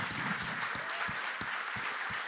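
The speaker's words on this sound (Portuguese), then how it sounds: "você pode aplaudir mais uma vez ao Senhor com toda a sua força" A church congregation claps hard and fast in praise, a dense wash of applause from many hands filling the room, steady and loud throughout.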